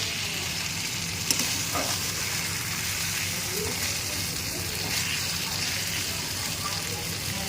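Mutton with potatoes is slowly sautéed in oil in a home kitchen, giving a steady, moderate sizzle that runs the whole time. A single light clink of a utensil is heard early on.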